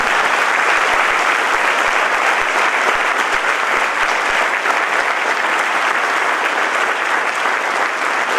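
A large audience at a church convention applauds with sustained, dense clapping that stays loud and even from start to finish.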